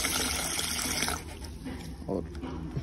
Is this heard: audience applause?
no